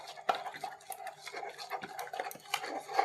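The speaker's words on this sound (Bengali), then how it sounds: "সেই জন্য এটাকে একটু ভালো করে ফেটে দিতে হবে" Batter for vegetarian pumpkin flower fritters, made without onion, is beaten by hand in a bowl. It gives quick, fairly soft scraping and clicking strokes in an irregular rhythm, with no voices.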